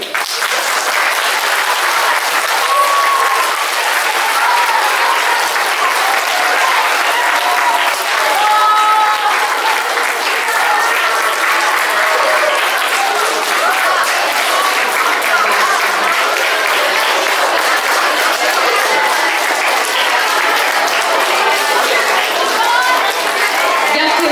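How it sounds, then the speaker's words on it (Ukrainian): Sustained audience applause at a school nativity (vertep) performance in Ternopil, dense and steady throughout, with crowd murmur mixed in. "Дякуємо нашим артистам і ваші оплески."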